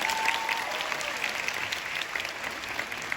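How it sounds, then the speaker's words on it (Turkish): A concert crowd in Baku claps for the orchestra at a show, dense continuous applause filling the hall at steady loudness for several seconds, with no voices on top. "Orkestram için büyük bir alkış alabilir miyim?"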